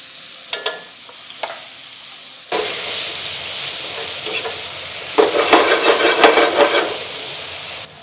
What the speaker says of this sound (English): We're going to brown up this beef.